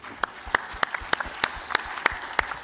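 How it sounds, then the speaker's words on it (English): Sparse applause for three competing teams, with about nine distinct, sharp hand claps at a loose, uneven rhythm that sounds like only a few people clapping, heard close and alone. "So let's give a round of applause to all three teams."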